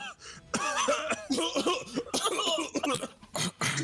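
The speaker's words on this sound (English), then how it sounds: "I'ma just cough" A person coughs and hacks in a rough burst of several coughs, with throat clearing and a snicker mixed in, close and loud.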